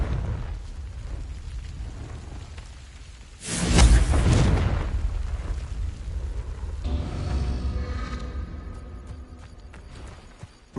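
A Confringo blasting curse in Hogwarts Legacy goes off in one sudden, loud, close explosive burst with a rumbling boom that fades slowly over several seconds, followed by quieter crackling and ambient game sound.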